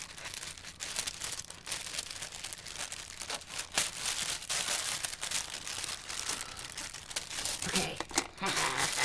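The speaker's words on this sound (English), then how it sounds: "I'm going to save this tissue paper" Tissue paper crinkles and rustles steadily and up close as a mail-order craft package is unwrapped, the dense papery crackle running throughout with brief louder tears and crunches.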